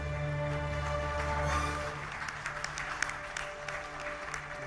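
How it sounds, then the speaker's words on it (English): Audience applause at a televised award event, a sustained wash of clapping from a large crowd that thins into scattered individual claps toward the end. "big round of applause for Shri Piyush Goyal, Sridhar Vembuji, and also Kapil Devji"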